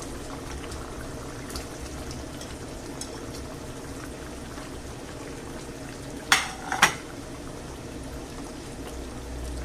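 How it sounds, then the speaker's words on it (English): A mussel and fish stew bubbles steadily in a pot at a low, quiet simmer, with a couple of sharp clinks of a lid or utensil near the end. "That slowed the boiling down."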